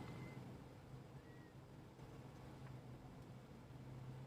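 A cat meows faintly indoors, soft mewing calls over a steady low background hum, with no talking.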